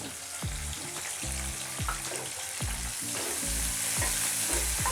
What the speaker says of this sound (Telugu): ఇప్పుడు ఇందులోకి కట్ చేసి పెట్టుకున్న ఉల్లిపాయ ముక్కలు, పచ్చిమిరపకాయ ముక్కలు యాడ్ చేసుకోవాలి